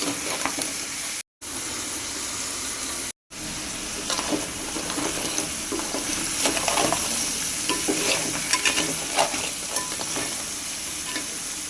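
Ingredients for a crab curry fry and sizzle in a pan while being stirred, a steady close hiss with scraping stir strokes throughout and two brief dropouts near the start; no talking.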